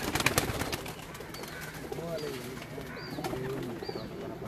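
Pigeons cooing on a rooftop, soft repeated coos at moderate distance over a busy outdoor background with faint voices and chirps.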